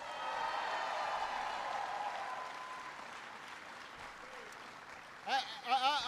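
Rally crowd in Kansas City, Missouri, applauds a third-generation Ford employee, with steady, moderately loud clapping that fades, then a speaker's voice comes in at the end.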